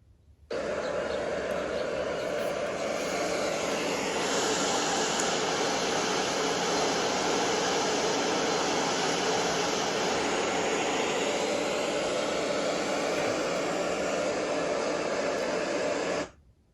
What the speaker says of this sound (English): That sound is a big waterfall.